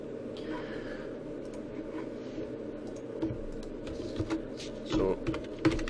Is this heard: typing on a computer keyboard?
yes